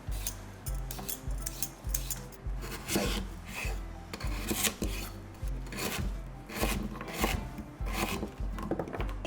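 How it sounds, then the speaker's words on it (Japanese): Close, rhythmic rasping strokes of a peeler scraping the skin off a daikon radish, repeating steadily about once a second. "続いて大根も皮を剥いていきます。"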